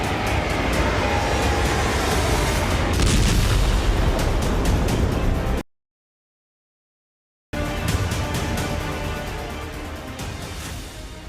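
A transport aircraft explodes in the sky over Belgorod: a loud, sustained roaring blast rumbles for several seconds, cuts out, then resumes as a heavy booming rumble that slowly fades.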